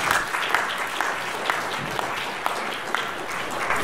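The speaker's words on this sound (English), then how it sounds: "give them a big round of applause" An audience at a research symposium applauds the speakers, a continuous wash of clapping with a few sharper individual claps standing out, steady and moderately loud with no one talking.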